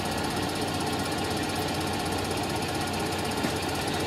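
A toolroom lathe takes a rough cut in aluminum, a loud steady broadband whir and grinding hum that holds evenly throughout without pauses.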